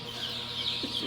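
Brooder chicks keep up a steady chorus of high, overlapping peeps with a brief lower cluck, close and continuous.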